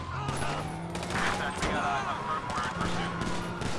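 Rapid gunfire in GTA 5, bursts of fast shots crackling over engine drone and game noise, with someone talking excitedly over the action.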